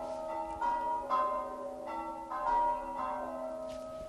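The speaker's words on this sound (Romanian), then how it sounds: "Câinii nu suferă sunetul, îi deranjează sunetul clopotului." A church bell near a remote mountain hermitage rings in slow, evenly spaced strokes, each clang ringing out with sustained metallic overtones that overlap and decay between hits.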